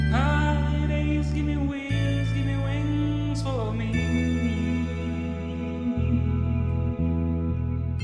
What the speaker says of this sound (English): I used those to make a delay effect. It sounds like this.